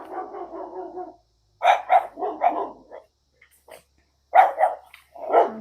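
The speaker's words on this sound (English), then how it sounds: "My neighbor's dogs are here now." Neighbor's dogs bark outdoors in bursts of several sharp, loud barks separated by short pauses, close to the microphone with no talk over them.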